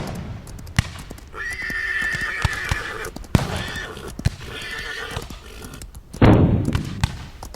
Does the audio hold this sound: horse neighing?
yes